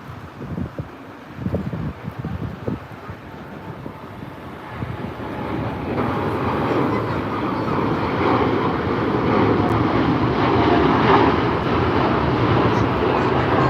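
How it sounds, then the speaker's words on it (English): Japan Airlines Boeing 787 departing LAX, its jet engine roar building from a low rumble into a steady, loud broadband wash with wind buffeting the microphone, while faint voices talk early on. "I think that's the a Japan Airlines that we were talking about earlier that's departing right now. That's a 787."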